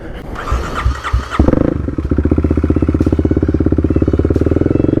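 A Kawasaki KLX351 stage 3 dirt bike engine starts after a brief clatter and settles into a steady, rapid single-cylinder idle, loud and close, with no voices over it.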